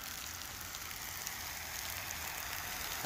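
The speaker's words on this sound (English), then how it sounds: "freezing rain." Freezing rain falls outdoors in Ottawa, a steady faint patter and hiss of drops on surfaces with no other sounds.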